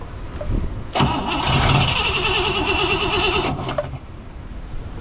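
A 1963 Pontiac Catalina V8 engine catches and revs loudly up close on a cold day, a steady roaring rev held for a few seconds before dropping back to a rough idle.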